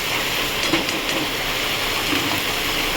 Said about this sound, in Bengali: দেখুন বন্ধুরা, এইটা করলাটা দিয়ে দিলাম।